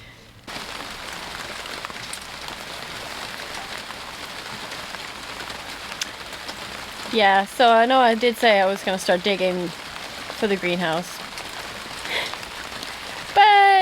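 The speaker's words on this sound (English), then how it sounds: "it's just raining a little bit too much for me" Steady rain patters on a clay-soil allotment in winter, a continuous hiss throughout while someone talks over it in the middle and again near the end.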